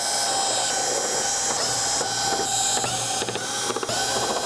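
Screws are being removed from the back of a Samsung 4K TV, model UN65MU630DFXZA, with a power driver, giving close whirring bursts and brief ratcheting clicks separated by short pauses.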